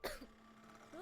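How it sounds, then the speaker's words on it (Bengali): A cartoon character gives a short cough at the start, followed by a quieter throat sound and low background tone. "কি হলো, এত কাশছেন কেন?"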